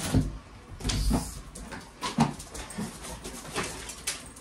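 Dogs shut in their kennels whimper and yelp in short, scattered bursts, with clatter and thumps in between.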